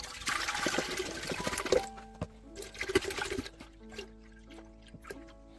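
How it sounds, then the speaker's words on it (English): Milk poured into a big pot for making mozzarella, a splashing, trickling liquid sound that starts strong and continues in uneven bursts, close and moderately loud with clinks in between. "First we're going to put the milk into a"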